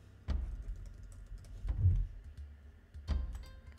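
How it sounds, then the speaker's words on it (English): Keys on a computer keyboard are tapped in short, quiet, irregular clusters close by, with no voices. "Then type in your domain"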